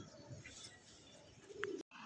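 Pigeons at a farm keeping Iranian, Pakistani Lahori, Bombay and grizzle breeds coo and chirp softly against a faint background, with a brief dropout near the end.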